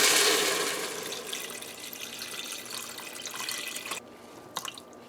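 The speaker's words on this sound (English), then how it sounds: "So now we're gonna add our coconut milk in there." Coconut milk pours into a pot in a steady, close liquid stream that fades after a few seconds, leaving light drips and a soft clink.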